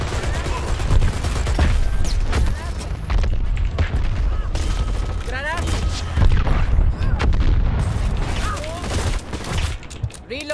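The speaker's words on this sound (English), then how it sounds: "Wow, so many airstrikes." Repeated airstrike explosions in the video game Dirty Bomb, with loud, overlapping booms and rattling gunfire in a dense barrage, with occasional whizzing effects and a voice speaking briefly.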